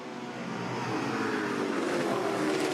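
Touring Car Masters race cars, a Camaro and an AMC Javelin, roar at speed on a circuit in 2012, a dense continuous engine drone that grows slightly louder, heard from trackside.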